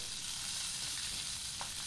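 Pork belly cooks inside a bamboo tube at a campsite, the water released by the bamboo boiling with a steady, bright sizzling hiss and faint bubbling pops, continuous and close.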